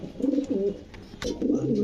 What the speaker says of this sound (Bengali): ভাই কি কবুতর এগুলা ভাই মাক্সি রেসার